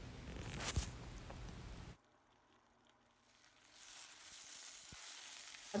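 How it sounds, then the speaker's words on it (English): Spinach leaves fry in a pan with a soft, steady sizzle that drops away briefly, as if the pan is covered or stirred, then returns with light crackling and a few clinks. "It looks in a bigger quantity, but when you fry them it is becomes so small quantity."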